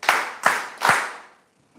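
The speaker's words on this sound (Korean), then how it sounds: "박수 3번 칠게요." A church congregation at a Wednesday worship service claps together three times in an even rhythm. The claps are sharp, roomy and evenly spaced, with a short echo trailing after the last one.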